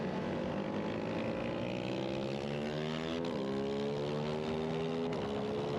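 A Ducati Hypermotard 698 Mono accelerates hard in a drag race on a track, with a loud single-cylinder engine note rising through the gears, a brief pitch drop at each shift, and steady wind rush throughout.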